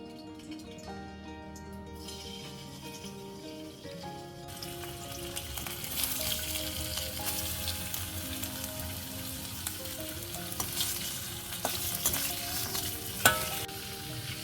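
Potatoes fry in hot oil in a kadai for a masala fish fry, a loud continuous sizzle that swells after a few seconds and crackles steadily, with occasional stirring knocks.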